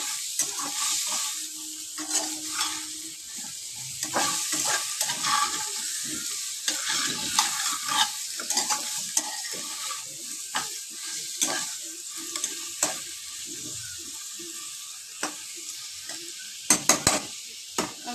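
Potato, eggplant and pumpkin pieces fry in a little oil while being stirred, giving a soft sizzle broken by frequent scraping and clattering stirs and a few sharp knocks near the end.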